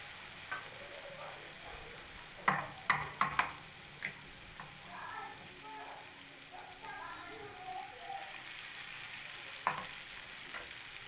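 Masala paste going into a frying pan of ridge gourd and potato for jhinge posto, with a soft sizzle under a few sharp clinks and scrapes of a utensil against the pan, fairly quiet and close.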